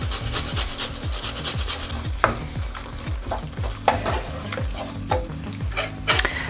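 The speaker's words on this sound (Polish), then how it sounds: "Potrę jeszcze czosnek, ostatni ząbek." Last garlic clove grated by hand, a fast rhythmic series of close rasping strokes against the grater with occasional sharper clicks, with no talk.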